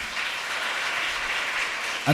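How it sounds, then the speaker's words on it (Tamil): Brief, steady applause from the audience at a Tamil pattimandram debate show, dense clapping throughout with a louder burst at the very end. "நீங்கள் தைரியமாக கை தட்டலாம் எங்கள் தாத்தாவுக்கு."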